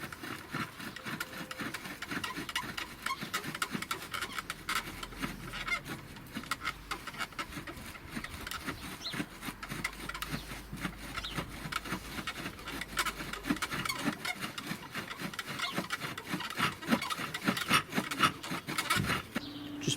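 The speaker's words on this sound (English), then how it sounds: "and then start drilling." A primitive flint stone drill bit, pressed down with a bearing block, grinds into wood in a continuous rhythmic back-and-forth scraping, quiet and close, with no voices.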